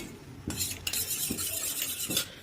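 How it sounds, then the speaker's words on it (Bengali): A spoon stirs flour paste into chicken stew in a cooking pot, giving soft, close scraping and swishing strokes at a quiet level. "হালকা হাতে মিক্স করতে হবে"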